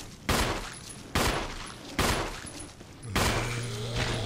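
Gunfire in the Resident Evil zombie video game: four sharp, loud shots spaced about a second apart, each with a brief decaying tail, the last followed by a low sustained tone.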